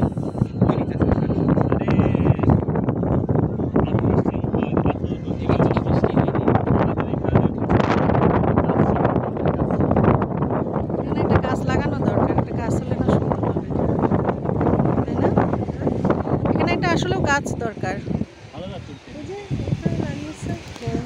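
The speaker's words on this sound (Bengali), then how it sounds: "এই জায়গাটাতে প্রচুর বাতাস, বাতাসের শব্দটাও আপনারা পাবেন" Strong wind buffets the microphone on the bank of the Padma river at Rajshahi, a loud, continuous roaring rush that eases slightly near the end.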